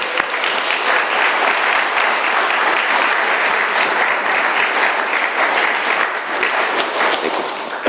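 A room full of people at an AA meeting in Doylestown, Pennsylvania applauds a speaker, the dense, loud clapping holding steady for the whole stretch with no break.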